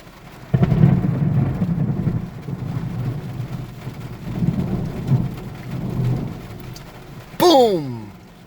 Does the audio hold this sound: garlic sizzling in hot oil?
no